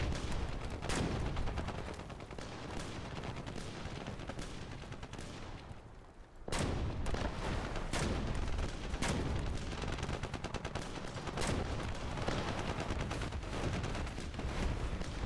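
Rapid, loud gunfire and explosive artillery blasts pound continuously in War Thunder's mobile infantry combat, with a brief lull before the barrage resumes at full intensity.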